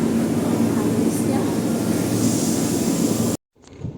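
Loud, steady rumble of a commuter train at Manggarai transit station in Jakarta, a dense broadband roar with a faint hum that runs for about three seconds, then cuts out abruptly into near silence followed by a quieter rustle.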